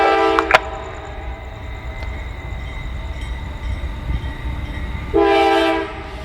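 CSX freight train approaching Lakeland Junction at night, a steady rolling rumble of rail cars with horn blasts at the start and again near the end, fairly close and loud, no voices.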